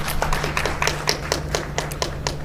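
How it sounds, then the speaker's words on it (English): Scattered clapping from a conference plenary audience at a devolution conference in a school hall, individual claps distinct and irregular, moderately close, over a low electrical hum. "we should clap for the counties on this"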